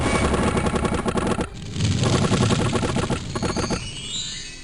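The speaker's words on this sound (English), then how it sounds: "So many shots." Rapid machine-gun-style volleys crackle through a battle in the strategy game Conquest of Elysium 4, loud, dense rattling bursts that break off briefly near the middle and then resume before tapering away.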